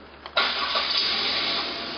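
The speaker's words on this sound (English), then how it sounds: "Start the engine" A car engine cranks and catches around a third of a second in, then settles into a steady idle, near and fairly loud, after the radiator has been refilled during a coolant service.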